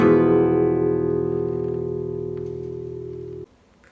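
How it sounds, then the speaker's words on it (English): Flamenco guitar playing an arpeggio arrastre, a single sustained chord ringing out clearly and alone, decaying slowly before being cut off near the end. "the Arpeggio Arrastre will sound like this."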